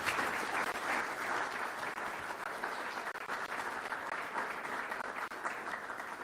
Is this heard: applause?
yes